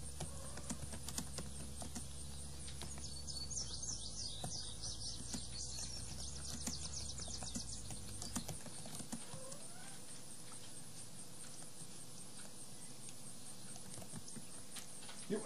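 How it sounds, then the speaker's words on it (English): Computer keyboard typing during an Unturned gaming session, rapid scattered key clicks running under steady game background noise and a low hum that drops out partway through. "Why do you keep typing?"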